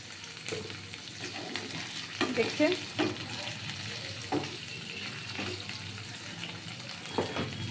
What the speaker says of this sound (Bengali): এবার আমি এই যে আলুটা সেদ্ধ করে রেখেছি এইটা দিয়ে দিলাম এটা একটু এই পেঁয়াজের সাথে এটা ভাজা হবে